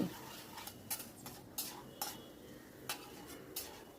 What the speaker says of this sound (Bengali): গ্যাসের ফ্লেমটা হাই করে আমি অনবরত নাড়ছি।